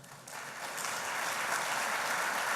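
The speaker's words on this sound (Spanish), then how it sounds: "Pedimos un aplauso para recibir." Audience applause welcoming a speaker at a conference event in Uruguay, dense steady clapping that starts abruptly and holds an even, fairly distant wash of sound with no voices.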